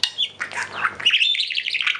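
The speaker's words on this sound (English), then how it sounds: "African gray bird sounds." African grey parrot sounds from a recording, a quick run of raspy squawks followed by a sustained series of high whistling chirps, close and loud with no speech.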